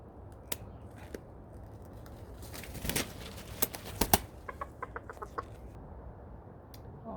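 Scissors snip a Serama rooster's wing feathers in a short series of sharp, close clicks, bunched in the middle of the clip, with soft clucking and light rustling around them in a quiet room.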